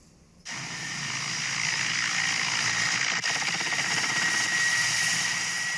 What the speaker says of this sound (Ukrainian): Мі 8 рушає на бойовий виліт працювати некерованими авіаційними ракетами по об'єктах противника.